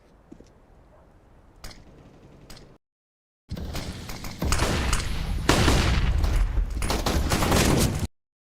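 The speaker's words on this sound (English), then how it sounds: "He'll rattle a few shots off and take a kill himself" Gunfire in a CS:GO match, a dense loud burst of rapid rattling shots that starts abruptly after a short silence and runs for several seconds before cutting off, with faint quieter game sounds beforehand.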